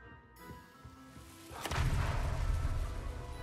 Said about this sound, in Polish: Jakiś wybuch.